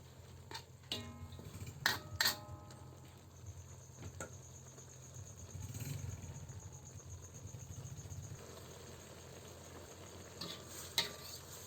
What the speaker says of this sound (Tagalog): Lagyan natin ito ng oyster sauce. Haluin lang natin.